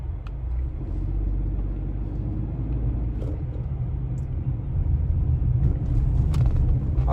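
A Peugeot 2008 GT Dynamic with the 1.2 PureTech engine accelerating in sport mode, heard from inside the cabin as a continuous deep rumble that grows slightly stronger toward the end.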